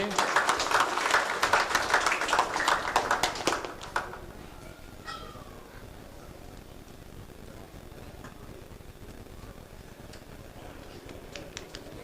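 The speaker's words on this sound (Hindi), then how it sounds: "इसे जोरदार तालियां से स्वागत करें" Audience applause welcoming a guest in a community hall, a burst of many hands clapping for about four seconds before cutting off, followed by quiet room tone with faint stray sounds.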